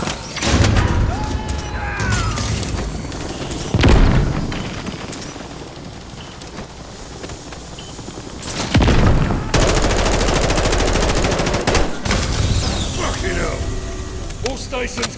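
Automatic weapons fire aimed at a helicopter in the video game Call of Duty, loud sustained bursts with crashes and rumbling under radio-style voices calling out orders.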